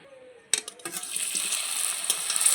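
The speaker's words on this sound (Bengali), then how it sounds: "আমি একদম তেলের মধ্যে দেবো আর একটু নাড়াচাড়া করেই এটাকে নামিয়ে নেব" Potato pieces hit hot oil and break into a loud, close sizzle, followed by scraping and clinks as they are stirred in the pan, and the frying hiss keeps going steadily.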